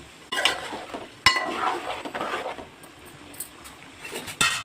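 Spice masala with red chilli powder, green chilli, salt, ginger-garlic paste and turmeric being stirred in a pan for a stuffed brinjal fry, a series of close scraping and clinking strokes with a couple of sharper knocks against the pan.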